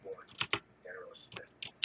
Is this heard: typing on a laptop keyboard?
yes